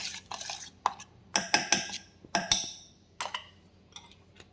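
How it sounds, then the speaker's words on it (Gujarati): A spoon stirs besan pudla batter with garlic in a bowl, giving a series of irregular clinks and scrapes against the vessel, close and fairly loud, with no talking. "અને આ બધું જ સારી રીતે મિક્સ કરી દઈશું."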